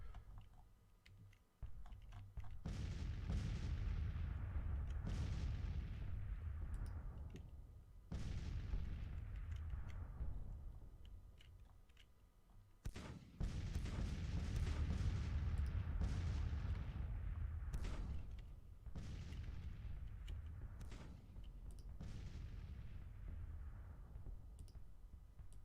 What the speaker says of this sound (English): So artillery barrage in the evening hours of September 24th.